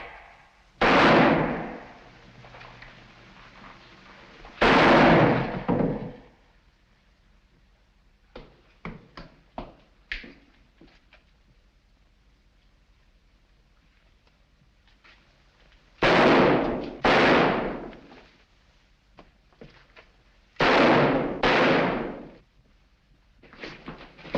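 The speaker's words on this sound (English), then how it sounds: "I think I can manage this with one shot." Gunshots in a 1943 Sherlock Holmes radio drama, Holmes Faces Death: a handful of loud, sharp bangs in two clusters, some doubled, with faint knocks and clicks in the quiet stretch between them and no talking.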